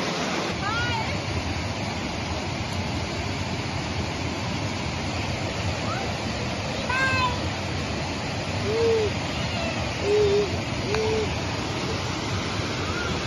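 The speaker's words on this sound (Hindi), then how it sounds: "इतना इतना ज़्यादा शोर था यहाँ पे कि कान पड़ी आवाज़ नहीं आ रही थी" A waterfall roaring as a constant broad wash of rushing water, loud and steady throughout, with a few faint tonal calls and brief voices rising above it.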